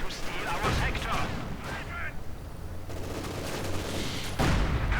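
Gunfire and artillery in a World War II strategy game, with a Panzer IV under fire, a dense continuous battle din of rapid shots, booms and explosions, loud throughout and swelling near the end.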